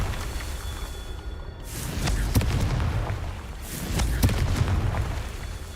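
Booming blasts from the Confringo fire spell in a wizarding video game, two heavy rumbling explosions a couple of seconds apart, each rolling on under a sustained low roar.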